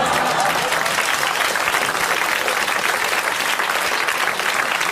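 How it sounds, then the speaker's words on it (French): A French TV studio audience in 1982 breaks into loud, sustained applause, a dense continuous clapping that fills the whole stretch without a pause. "vous applaudissez en ce moment, comme il le mérite, Monsieur Montségur de Montreuil-sous-Bois,"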